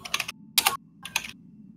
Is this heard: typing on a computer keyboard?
yes